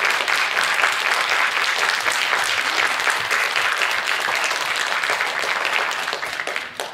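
Concert audience applauding a saxophone quartet: dense, loud, sustained clapping from a large crowd, steady throughout and thinning slightly at the end.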